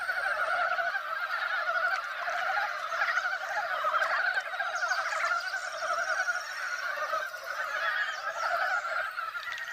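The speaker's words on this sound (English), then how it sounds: "these Far Eastern frogs are unique to Ussuriland" A dense chorus of Far Eastern frogs in Ussuriland, Russia, calls continuously, many voices overlapping in steady, rapid croaking trills at moderate distance, with no talking.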